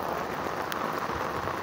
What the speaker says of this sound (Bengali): প্রচুর বৃষ্টি, অনেক বৃষ্টি।